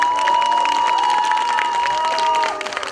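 Applause and crowd noise from an audience at a children's theatre play fill the room steadily, with a faint sustained tone running underneath and claps thinning out near the end.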